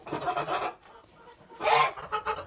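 Kholmogory geese give two loud bursts of honking calls separated by a short quieter gap, close by and with no talking.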